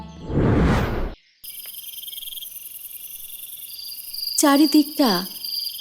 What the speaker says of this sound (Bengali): ঝিঝি পোকা ডেকে চলেছে